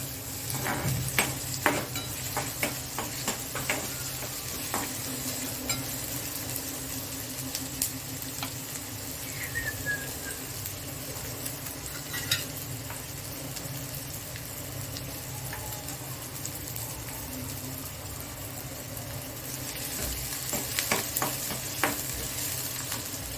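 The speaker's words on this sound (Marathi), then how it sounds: "त्या तेलामध्ये आपण टाकला एक मीडियम साईजचा कांदा बारीक करून, कढीपत्ता, कांदा व्यवस्थित तळून घ्यायचा आहे" Finely chopped medium onion and curry leaves frying in hot oil, a continuous crackling sizzle with occasional stirring clinks and scrapes, close and steady, no voices.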